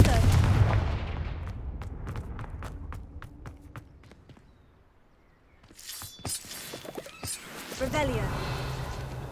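A Confringo blasting spell bursts in Hogwarts Legacy, sharp explosive cracks and crashing debris after quieter footsteps and taps, with game voices heard around it.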